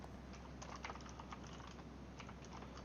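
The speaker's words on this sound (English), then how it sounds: "I'm going to go ahead and do a typing" Rapid, steady keystrokes on a computer keyboard at a fairly even pace, soft and close over a low constant hum, with no voices.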